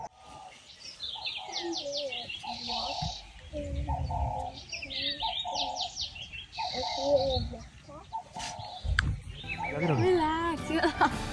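An owl calls at night with repeated cooing hoots over a steady background, while voices murmur underneath.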